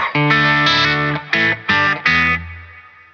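A crunchy electric guitar through a Boss OD-200 Hybrid Drive overdrive pedal plays a few sustained chords and short stabs, the last one ringing out and decaying.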